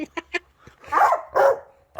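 A dog barks close by: a few short, sharp barks come first, then longer, louder barking bursts, with only brief quiet gaps between them.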